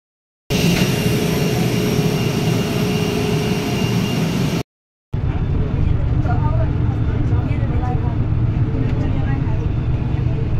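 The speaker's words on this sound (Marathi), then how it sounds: "मग पोचलं आमचं प्लेन कोलकात्याले." A jet airliner's engines roar loudly after landing in Kolkata, a continuous heavy broadband rumble that cuts out briefly midway and then returns just as strong.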